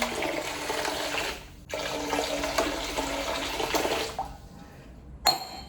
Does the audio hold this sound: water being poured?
yes